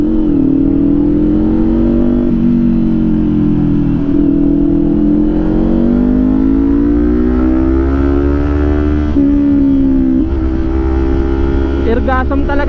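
A Kawasaki Ninja 500 SE inline-two engine fitted with an SC Project exhaust, revving and pulling through gears close to the listener, its loud droning note rising and falling, dropping at each shift and climbing again.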